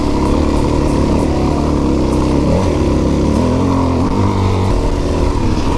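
A motorcycle with rejetted carburetion and an open air box runs continuously along a Central Oregon trail, its engine close and loud, pitch rising and falling as the rider works the throttle through gear changes.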